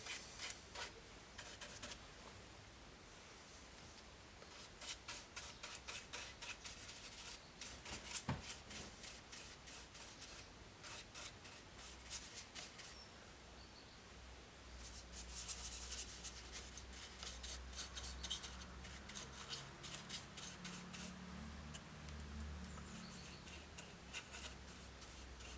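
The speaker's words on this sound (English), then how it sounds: "Sanding this has been quite a job because it was mainly manual or hand sanding" Someone hand sands a natural-edge hawthorn wood bowl, giving a quiet, steady scratchy rubbing broken by short repeated strokes, with no talking.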